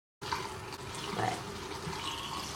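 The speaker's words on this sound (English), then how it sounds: "Let me stop the water for a second." Tap water runs steadily into a sink while a makeup sponge is rinsed, a continuous close splashing gush that starts abruptly and stays loud throughout.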